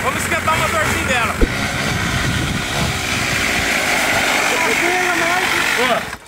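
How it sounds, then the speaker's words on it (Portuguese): Small mini motorcycle engine warming up, a steady buzzing idle held close throughout while people talk over it. "Vamos esquentar o motorzinho dela."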